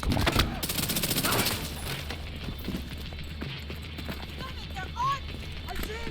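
Rapid gunfire from The Division 2 video game, a dense busy barrage of shots running throughout with a burst of heavier fire early on, with talk in the background.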